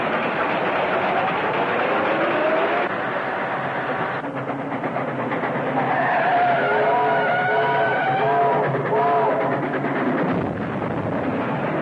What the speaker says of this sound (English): If Stanfield beats that train at the crossing, it'll cut us off.